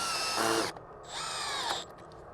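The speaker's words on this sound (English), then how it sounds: "and just drill her in." A power drill drives screws to mount an outdoor hose faucet, two short whirring bursts, the second rising in pitch, close and fairly quiet.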